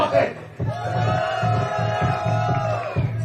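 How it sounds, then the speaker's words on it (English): Arena crowd at a men's boulder climbing semi-final at the NEOM Beach Games cheering a climber, with loud sustained whoops and rhythmic chanting swells close and full. "The crowd really getting behind him"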